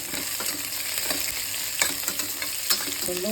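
Dried red chilli fries in hot oil in a pot with a steady close sizzle. A few light stirring clicks and scrapes sound over it.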